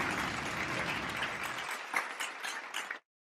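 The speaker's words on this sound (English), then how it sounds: "Give a bomb and a clap" A crowd claps and cheers for a few seconds, the applause thinning toward the end before cutting off abruptly.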